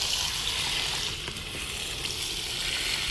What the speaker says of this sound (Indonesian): kita jangan siram daunnya, tapi cukup siram tanahnya